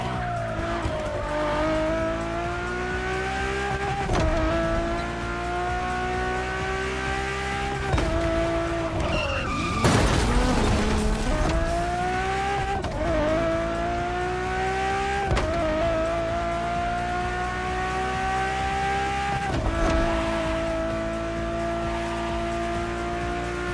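A road-legal Formula One–derived Ferrari hypercar with a Pininfarina design, driven in a racing video game, its engine howling steadily and rising and falling through gear shifts, with bursts of tire squeal and skidding in the middle, loud and close with no talk.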